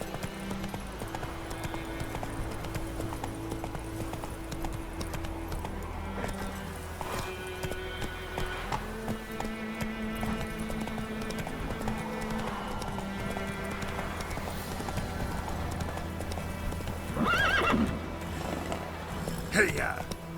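Horse hooves clip-clopping at a gallop in The Witcher 3: Wild Hunt, a steady rhythmic beat under layered game music and ambience, with a brief whinny near the end.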